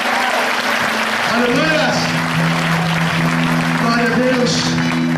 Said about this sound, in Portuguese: Posso ouvir um aplauso para Jesus aí, se você recebe mesmo?